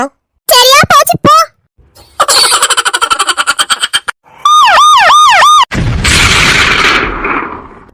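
A police siren wails in loud, rapid rising-and-falling sweeps, among other sharp sound effects and a burst of rough noise.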